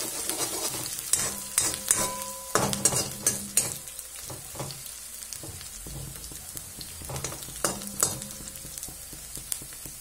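Chopped onions with ground ginger-garlic paste sizzle in a pan while a utensil stirs and scrapes through them, giving steady frying hiss punctuated by repeated sharp clinks and scrapes over about ten seconds.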